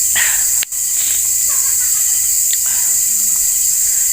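Crickets chirp at night near a ridge restaurant, a dense continuous high-pitched trill that fills the background, broken by one brief sharp click and a few faint distant calls, with no talking.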